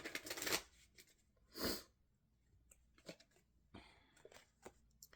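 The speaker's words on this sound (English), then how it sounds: "let me get some cards from the Osho Zen Tarot" Osho Zen Tarot cards are shuffled close up in a few separate bursts, a loud papery riffle first, then a stronger swishing shuffle, followed by lighter, scattered card flicks and taps.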